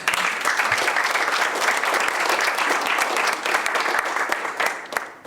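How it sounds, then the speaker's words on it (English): An audience at a DC statehood forum breaks into sustained, dense applause, loud and steady from start to finish before tapering slightly at the end. "Let's give her a round of applause."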